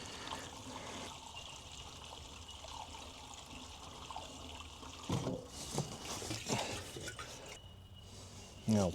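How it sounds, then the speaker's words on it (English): Fuel drips from the leaking tank of an old Ferguson tractor into a bowl: a faint, steady trickle and patter, broken by a few louder knocks and handling noises near the end. "The bowl's slowly filling up, so we'll just let it drip."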